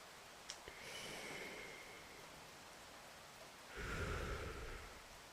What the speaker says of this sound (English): The rain's calming, isn't it?